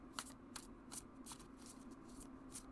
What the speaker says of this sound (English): You could do the overhand shuffling.